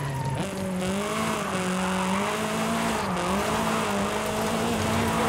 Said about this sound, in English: I just sort of put myself in a corner and just accelerate.